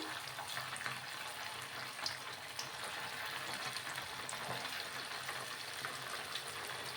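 Gobi manchurian balls dropped into hot oil give off a faint, steady bubbling sizzle with light crackles, heard alone at low volume.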